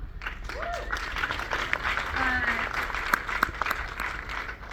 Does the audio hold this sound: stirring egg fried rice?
no